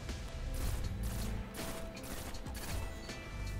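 Pulse rifle fired from the hip in the Destiny: Rise of Iron shooter, quick bursts of sharp shots mixed with mechanical clatter and crashes in a busy multiplayer match.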